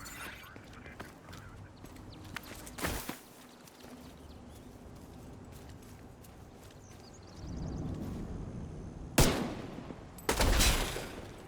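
Gunfire in the video game The Division 2: a couple of sharp, loud bursts of shots break through a quieter, rumbling game ambience near the end, with an earlier single crack.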